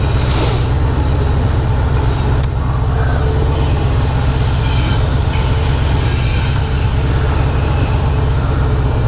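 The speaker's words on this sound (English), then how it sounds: "That's the end of the train." A long train rolling past on railroad tracks, loud and close, with a steady low rumble of wheels, rhythmic clatter and occasional metallic squeals throughout.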